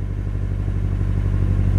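A 1995 Nissan S14 240SX engine runs at a low, lumpy idle close by, its deep throbbing pulse slightly uneven but continuous throughout.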